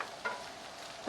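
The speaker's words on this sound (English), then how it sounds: "Get our onions in and start to get them" Onions sauteing in olive oil in a pan, a soft steady sizzle with a couple of brief stirring scrapes, fairly quiet and close with no talking.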